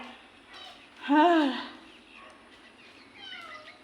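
A single clear cat meow rises and falls close by, with faint softer mews and chirps around it in a quiet room.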